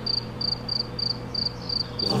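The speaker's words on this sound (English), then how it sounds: "Oh, there's more crickets." Crickets in a video game chirp in a regular pulsing rhythm, about seven evenly spaced bursts over a low steady hum, clear and near with no voices.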